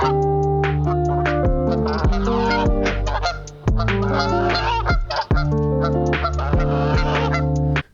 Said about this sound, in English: I'm going to put some of those geese sounds here